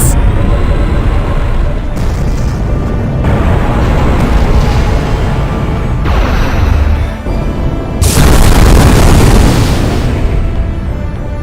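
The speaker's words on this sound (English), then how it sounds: "That's the ether cannon." A heavy ether cannon fires in the PS2 robot game Robot Alchemic Drive, a loud sustained roaring blast with booming surges and a sharp renewed burst near the end, thick rumble throughout.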